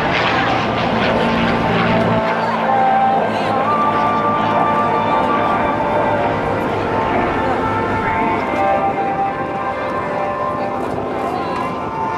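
P-51 Mustang propeller fighter flying in a USAF Heritage Flight at the 2010 NAS Oceana airshow, a loud continuous droning engine roar heard under an announcer talking over the public address.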